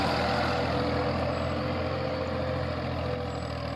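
A tractor engine runs steadily in a sandy chickpea field in Pakistan, a continuous loud low drone with no break and no voices.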